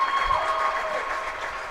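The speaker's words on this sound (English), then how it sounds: "You'll start to hear some applause perhaps behind me." Applause from an indoor crowd at a college women's tennis championship trophy presentation, steady clapping throughout, moderately loud and slightly distant, with no talk over it.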